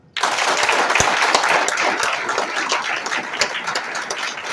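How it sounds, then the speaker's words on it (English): University audience claps on request, bursting into loud, dense applause that starts abruptly and holds steady, with a few sharper individual claps standing out. "All of you should clap."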